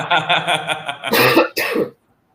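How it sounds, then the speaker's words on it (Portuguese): A woman with a sinus infection coughs in a quick burst of several close coughs, ending in silence. "Eu vou dar umas tossidas ocasionais."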